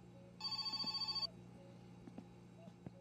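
A telephone in the game My Summer Car gives one short burst of fast, trilling bell rings under a second long. It sounds quiet and a little distant, and faint game noises follow.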